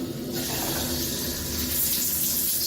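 Water pours steadily from a newly installed shower head with extra controls, a continuous loud hiss of spray that swells slightly toward the end, with no talking.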